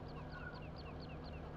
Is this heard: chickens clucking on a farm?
yes